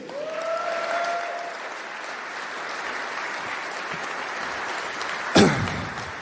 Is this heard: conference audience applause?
yes